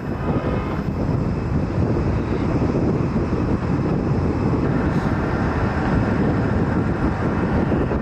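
A JetBlue airliner arriving from LaGuardia at Fort Lauderdale, its engines a loud, steady broadband roar held close for several seconds, with rushing wind noise and no voices.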